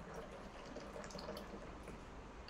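Sodium laureth sulfate liquid being poured into a bucket while making laundry liquid soap: a soft, continuous trickling and splashing stream with faint dripping, quiet and close.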